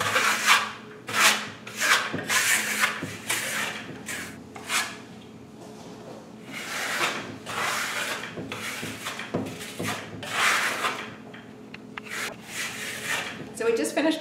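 A steel trowel sweeps Firmolux Italian lime plaster across a wall in repeated rasping strokes of uneven length, close by, with pauses between passes and a voice speaking at times.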